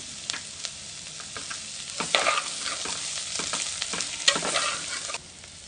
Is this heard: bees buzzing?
no